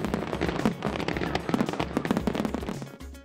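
Fireworks go off at the Pirates Week Festival in Grand Cayman, a dense, continuous crackle of rapid pops and bursts with low rumbles underneath, steady and moderately loud.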